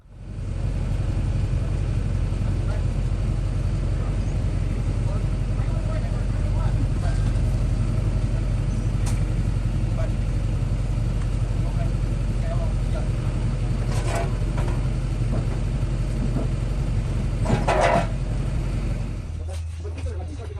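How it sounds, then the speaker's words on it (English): A truck engine runs steadily nearby with a continuous low rumble throughout, at a racing shop while the crew loads a motor, before cutting off near the end. "So I'm going to pull the truck up"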